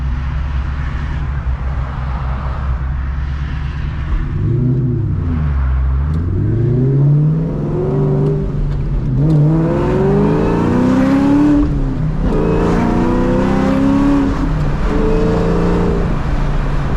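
A 500hp Ford Mustang Terminator Cobra engine accelerates on the road, its loud exhaust note climbing and falling through several rising sweeps over a steady rumble, with no talk.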